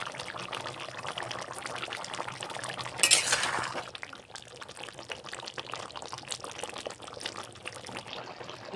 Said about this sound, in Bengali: এখন আমি ঘি দিয়ে দেব বেটে রাখা গুঁড়োটাও দিয়ে দেবো